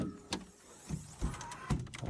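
An electric power seat motor in a Mercedes 190E whirs in short bursts, with soft clicks and thumps as the seat shifts, heard up close inside the quiet cabin.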